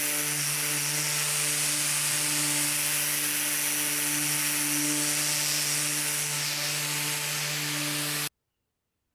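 A power drill bores a 3/16 pilot hole for hardware in a laminate nightstand, a loud steady whining drone with a strong tonal hum that runs continuously for about eight seconds, then stops abruptly.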